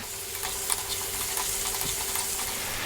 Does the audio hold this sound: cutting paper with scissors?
no